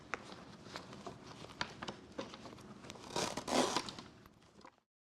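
A zipper on the back cover of a wheelchair seat is pulled along in a series of short rasping bursts, close and quiet, ending in a longer scratchy run before stopping.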